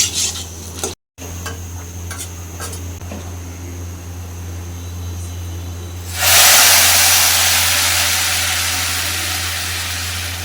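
Whole spices hit hot cooking oil and a loud, steady sizzle bursts up after some quieter rubbing and scraping, then keeps hissing and slowly fades, close by with no talking.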